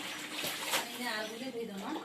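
Water splashes and runs as vegetables are washed, close by and fairly quiet, with a voice talking over it the whole time.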